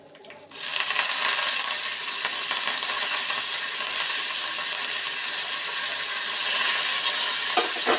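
Curry leaves hit hot oil and burst into a loud, steady sizzle that starts abruptly and keeps crackling close up.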